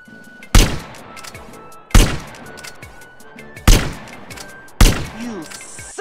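Four loud, sharp gunshots ring out at roughly regular intervals in GTA San Andreas with the Criminal Russia mod, each a hard crack with a short echoing tail, separated by quieter game ambience.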